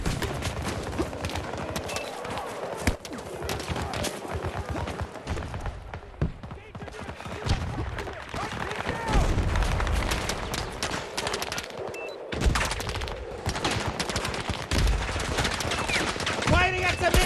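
Rapid bursts of automatic gunfire and thuds from Battlefield 2042 multiplayer combat crackle densely and nearly nonstop, loud and close, with speech heard intermittently over the shooting.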